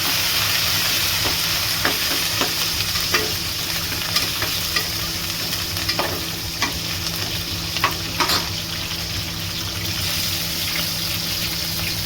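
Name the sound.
frying dried red chillies, shallots and curry leaves for fish curry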